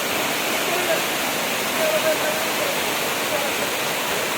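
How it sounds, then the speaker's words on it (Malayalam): The 33 waterfall in the Mankulam forest near Munnar roars steadily at close range, a loud, unbroken rush of falling water. "മാങ്കുളത്തെ ഏറ്റവും മനോഹരമായ ഒരു വെള്ളച്ചാട്ടമാണ് 33 വെള്ളച്ചാട്ടം"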